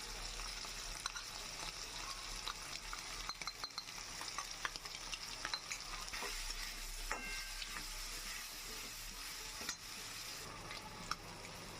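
Prawns sizzle steadily in a hot pan with salt and turmeric, with frequent scraping and stirring clicks and light clinks of a utensil, close and continuous.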